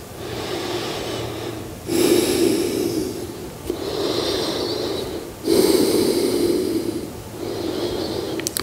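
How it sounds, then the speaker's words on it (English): Slow, deep breathing during yoga practice, close to the ear: long airy inhales and exhales alternating in a steady rhythm, about four breaths, with a slightly nasal, rushing texture. "Deep breath in"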